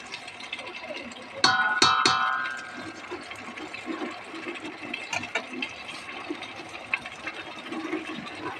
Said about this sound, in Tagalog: Tapos maglagay tayo ng konting tubig